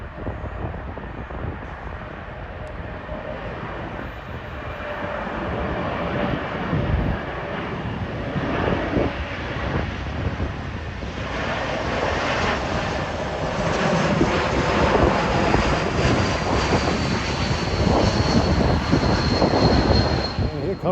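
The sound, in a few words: Delta Airlines Airbus A220 plane flying over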